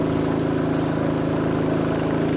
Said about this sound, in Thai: นี่เรือจักรเรือหางยาว